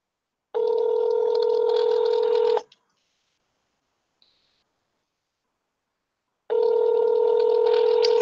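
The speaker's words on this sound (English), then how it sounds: "I'm going to go ahead and give her a call" A phone call rings out: two long electronic ringing tones, each about two seconds, separated by several seconds of silence.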